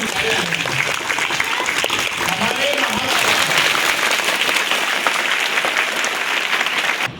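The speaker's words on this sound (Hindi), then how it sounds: "एक जोरदार तालियां बजाइए आप सभी मैडम।" An audience at a Hindi Day ceremony gives sustained, loud applause that continues evenly for several seconds. A brief spoken word is heard within it.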